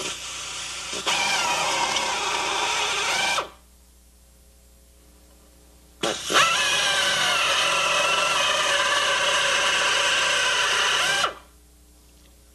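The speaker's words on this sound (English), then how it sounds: "Now use a larger drill to remove the head." Larger drill bit boring off rivet heads on an automotive front-end control arm, two sustained loud bursts of high-pitched grinding drill noise separated by a short pause, with no talking.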